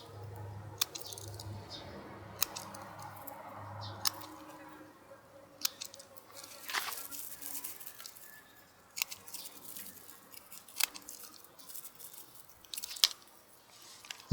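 A Swiss Army knife trims excess material off a handmade blowgun dart outdoors, giving soft squishy cuts and sharp snips spread across the clip, close and fairly quiet.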